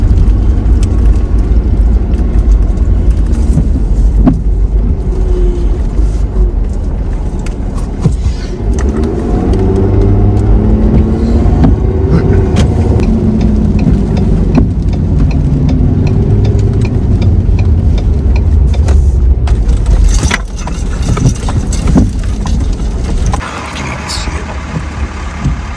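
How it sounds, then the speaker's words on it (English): Traffic on a busy desert road, Highway 178 near the Trona Pinnacles: vehicles roll past one after another in a continuous rumbling drone with engines swelling and fading, loud throughout, as a person talks over it. "this is a busy road out here"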